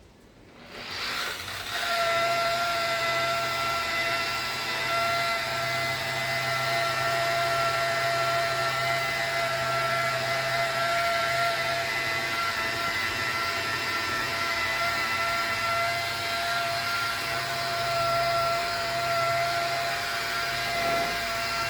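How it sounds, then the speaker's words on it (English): A polishing machine buffs a car's headlights on a BMW E90 325i, a steady loud electric whine with a constant pitch that starts up abruptly and runs unbroken. "So, get your good old polishing machine and go to town."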